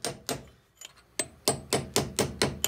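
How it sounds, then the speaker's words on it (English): A hammer strikes a seized screw on a classic MGB GT Sebring under restoration, about ten sharp metallic blows, sparse at first and then in a quick steady rhythm, close and loud with no talk. "I'm hitting that way to try and rotate the screw and shock it round."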